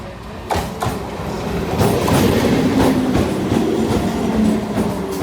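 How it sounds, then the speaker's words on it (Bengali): A heavy train rushes past close by beside the Ganges near Howrah Bridge, a loud continuous rumble and rattle of wheels on rails building after the first half second and holding steady. "হঠাৎ দেখছি এক দানব ট্রেন ছুটে আসছে"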